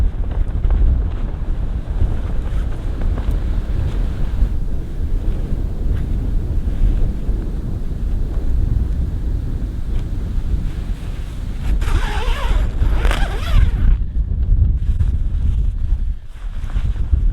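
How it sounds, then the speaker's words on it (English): Strong wind roars steadily against the microphone at a freezing-weather tent campsite, with a deep rumble and gusty buffeting throughout, no voices, a brief lull near the end. "It's pretty windy"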